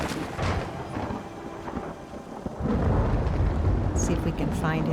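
Rain and rolling thunder in Skyrim, a steady rush of rainfall with a deep rumble swelling and growing louder midway, and faint voices alongside near the end.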